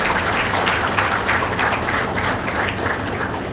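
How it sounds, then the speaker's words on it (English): An audience at a college orientation applauds Dr. Shilpa Khatri Babu. The applause is dense and continuous, a steady wash of many hands clapping without pause for the few seconds it lasts. "A roar of applause should be for Dr. Shilpa Khatri Babu"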